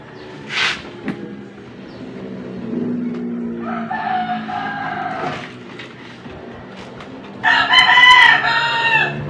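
Roosters crow loudly nearby, two long cock-a-doodle-doo calls separated by a pause, with a brief squawk at the start.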